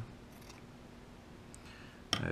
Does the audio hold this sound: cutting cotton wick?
yes